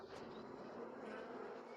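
A steady, close, low buzzing hum from a honeybee hive in a caught swarm, continuous and even throughout with no voices.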